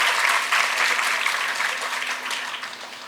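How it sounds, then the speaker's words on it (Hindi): Audience applause at a TB-Free India Campaign felicitation ceremony at Raj Bhavan, Dehradun: a large crowd claps steadily and loudly, the dense clapping slowly tapering off over a few seconds. "कृपया जोरदार तालियों से उत्साहवर्धन करते रहिए।"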